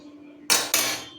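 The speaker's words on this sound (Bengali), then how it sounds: "কড়াই বসিয়ে দিয়েছি।" Metal wok (kadai) set down on a kitchen stove while preparing fish curry: two quick clanks close together, loud and near, each ringing briefly before fading, with no talk.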